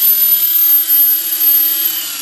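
The rotor and motor of an RC helicopter spool back up under an auto-bailout governor setup, giving a loud, close, steady high-pitched whine with no talk.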